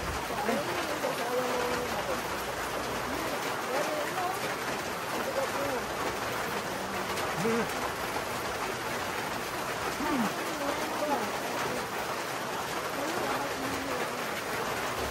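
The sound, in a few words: rain falling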